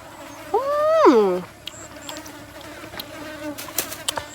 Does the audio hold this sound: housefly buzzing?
yes